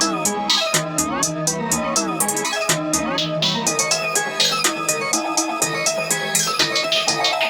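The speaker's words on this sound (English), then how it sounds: "hi-hat looks and sounds like this" A fast MIDI-programmed hi-hat pattern with rapid bursts and rolls of crisp ticks over a dense beat, loud and continuous throughout.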